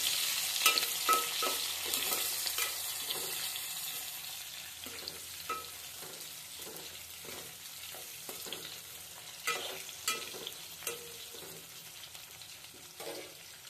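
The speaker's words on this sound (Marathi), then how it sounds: "आता त्याच्यात कांदा टाकूया। कांदा लाल होईल तोपर्यंत परतून घेऊया।" Onion fries in hot oil with a bay leaf, a soft continuous sizzle broken by periodic scraping and clinking as it is stirred around the pan, with no talking.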